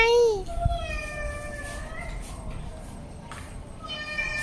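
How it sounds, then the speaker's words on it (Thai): A kitten meows in a few rising and falling calls, close and clear, while someone talks and plays nearby. "นั่นไงแมวน้อยอยู่ข้างบน"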